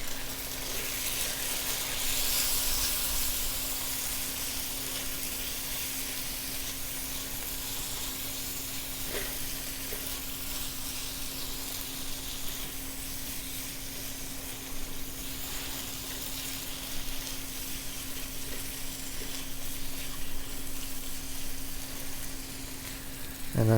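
Mixed vegetables frying in a pan, South Indian style, giving a soft, continuous sizzle and hiss with occasional faint stirring clicks and a steady low hum beneath, no speech.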